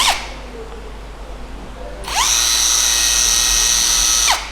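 A Ronix impact driver runs in reverse mode. A short whir starts and quickly stops, then after a pause the motor spins up into a loud, steady high whine for about two seconds before winding down.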